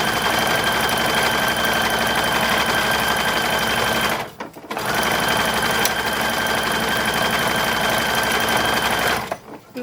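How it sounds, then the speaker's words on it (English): Sewing machine running fast on light fabric garment pieces, a dense continuous whirring hum lasting several seconds, pausing briefly around the middle and again near the end, close and steady. "I'm sewing all the pieces together."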